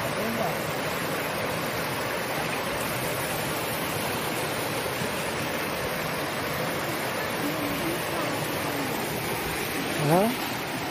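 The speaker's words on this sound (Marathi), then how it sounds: "वा, काय सुंदर धबधबा आहे" Anandwadi waterfall near Neral Karjat, Matheran area, gives a steady, loud, broadband rush of falling water filling the whole stretch, with a brief surge near the end and faint voices mixed in.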